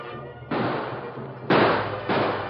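Radio drama gunfire effect: three sharp, loud bursts in quick succession, each with a rough noisy tail, no voices.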